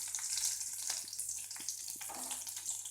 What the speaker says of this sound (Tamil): கருவேப்பிலை, வரமிளகாவை இப்படி கிள்ளி போட்டுக்கோங்க.